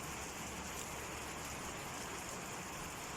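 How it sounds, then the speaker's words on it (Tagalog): Steady rain falls continuously in Capiz, Philippines, a dense even hiss of drops on surfaces with no voices. "ilang araw na pong inuulan dito ang aming bayan"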